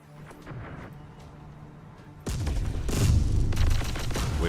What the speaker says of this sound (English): Now they have artillery on us.